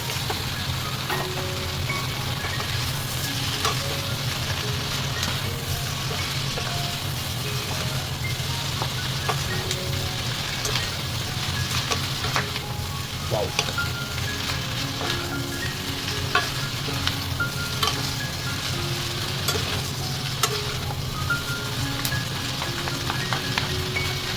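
Sliced pork mixed with aromatics sizzles steadily in a hot pan while being stirred, a continuous close frying hiss broken by frequent scrapes and clinks of the utensil against the pan.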